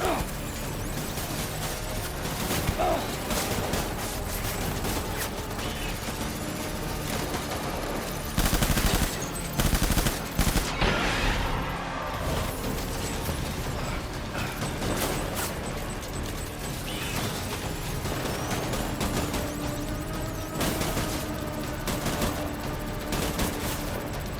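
Dense bursts of rapid gunfire and sharp impacts from a shootout in the video game Death Stranding, loud and continuous throughout, with voices faintly mixed into the chaos.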